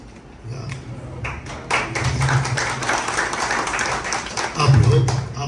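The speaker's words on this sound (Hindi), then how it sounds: "आप लोग ताली बजाते हो तड़प तड़प के" Conference audience applause, broadband patter rising after the first couple of seconds and swelling again near the end, mixed with a low murmur of voices in a hall.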